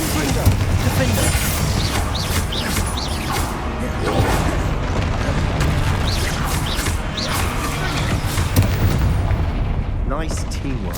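Spell explosions from the Hogwarts Legacy video game crack and boom in a dense, continuous battle mix, with repeated sharp blasts and crashes over a steady rumbling din, and voices calling out throughout.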